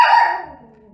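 A single dog barks once, close and loud, at the foot of a household staircase, the bark fading quickly into a short tail.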